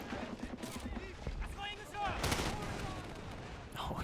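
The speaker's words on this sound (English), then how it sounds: "Oh, this Shilka is ripping up." Rapid automatic cannon fire from a Shilka anti-aircraft gun in a Cold War 1975 game mod, sustained bursts of crackling shots mixed with other battle noise, with someone talking over it.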